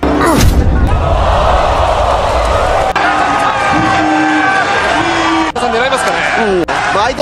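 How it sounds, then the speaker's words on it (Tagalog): Boxing fans in an arena roar and cheer to support a fighter, a loud, dense crowd din with whoops and sharp thuds, heard under an excited commentator's voice. "sigawan naman sa suporta ang mga fans ni Ubara"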